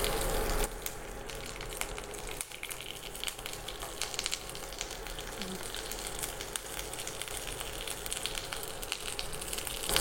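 Tempering seeds, dry red chilies and curry leaves sizzling in hot oil for a street-style tomato chutney, a soft, steady crackling hiss with faint pops, close but fairly quiet.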